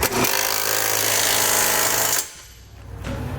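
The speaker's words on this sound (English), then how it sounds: "grab a 3/4 inch socket and we can snug up all the hardware" An impact or power tool drives the trailer hitch bolts on a 2015 Ford Explorer with a 3/4 inch socket, a loud continuous buzzing whir for about two seconds that cuts off, then a brief quieter burst near the end.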